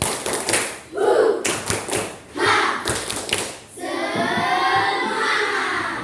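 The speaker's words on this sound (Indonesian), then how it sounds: "Ya, tepuk semangat." Schoolchildren in a classroom doing a rhythmic spirit clap, several quick grouped bursts of claps and taps in a patterned beat, followed by the class chanting or voices together.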